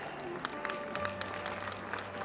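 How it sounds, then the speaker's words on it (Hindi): An audience at a school annual function applauds as parents are welcomed onto the stage, with steady clapping across the whole stretch and scattered sharper claps above the wash of a crowd. "Please welcome them with a huge hand of appreciation"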